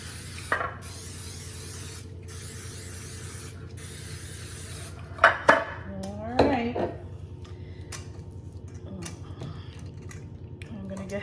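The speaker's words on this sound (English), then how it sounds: "now we're gonna go ahead and spray this pan like crazy" Several short hissing bursts of cooking spray on a metal muffin pan, close up, separated by pauses, with clinks and light handling noises afterward.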